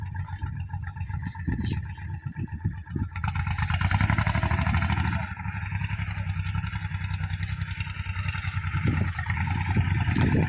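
A Kubota farm tractor engine runs steadily at close range, a loud continuous low-pitched rumble with a faster idling rhythm, briefly knocking and irregular at first before settling into an even drone.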